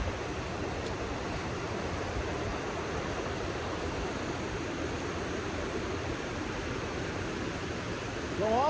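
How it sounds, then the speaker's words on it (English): Water flowing among rocks beside an iceberg, a steady broadband rush heard alone throughout, without pauses. "see a little bit of water flowing."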